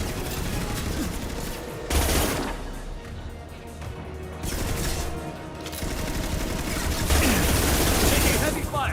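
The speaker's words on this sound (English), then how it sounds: "Taking heavy fire." A Mass Effect 2 firefight, with dense bursts of sustained gunfire and heavy impacts continuing throughout and rising and falling in intensity.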